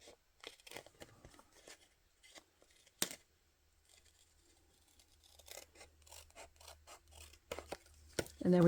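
Scissors snip around the edges of a freshly glued handmade paper envelope in a papercraft session, giving quiet, irregular cutting and rubbing sounds with scattered sharp clicks, close and fairly soft, a few louder snips near the end.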